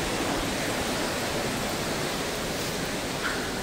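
Sundarijal waterfall near Kathmandu, a dense, steady roar of falling water with no breaks, heard close and loud throughout without voices.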